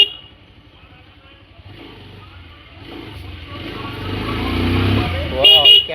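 A motorcycle rides along a narrow village road, its engine hum low and faint at first, then rising and growing louder under a voice talking over it.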